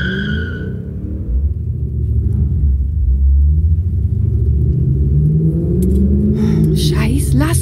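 A car on the motorway in an audio drama effect, with a loud, steady engine rumble and tyre roar that builds and shifts pitch as it accelerates, ending with brighter hissing noise.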